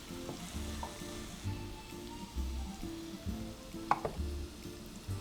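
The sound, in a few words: onion frying on low heat in a pan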